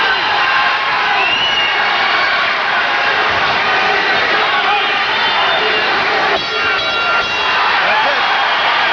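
A boxing crowd at the Municipal Auditorium roars and cheers steadily as the fight ends, a dense, loud wall of voices with whoops, with a commentator talking over it.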